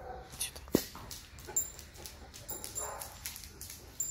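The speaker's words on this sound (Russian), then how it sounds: "Кто тут смеет гавкать?" A dog gives soft whimpers and a few short yips nearby, fairly quiet, with faint background noise.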